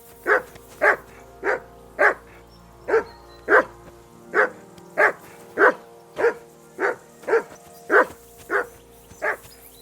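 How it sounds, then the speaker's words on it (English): A dog in the video game Kingdom Come Deliverance II barks over and over at a steady, even pace, about sixteen evenly spaced woofs, moderately close, over a faint low hum. "I assume you can hear that damn dog of yours barking."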